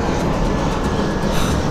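A steady, loud broadband roar fills the air as an aircraft passes unseen above dense fog over the JNU campus in Delhi. The noise is continuous and unbroken, with no voices.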